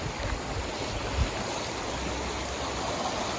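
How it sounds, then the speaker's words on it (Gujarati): Steady rushing of fast-flowing floodwater, broadband and continuous, like the swollen Sabarmati River below Dharoi Dam surging past nearby. "બધા ગામડાનું ભેગું થતું થતું આટલું પાણી હેડે છે"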